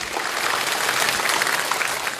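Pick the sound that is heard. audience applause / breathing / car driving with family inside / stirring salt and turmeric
audience applause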